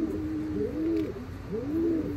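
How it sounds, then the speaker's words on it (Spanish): Soft, repeated cooing from a female pigeon, a white-winged dove, close by, with several rising-falling coos in a gentle rhythm over a low background hum and no talking. "Ahí tienen la palomita."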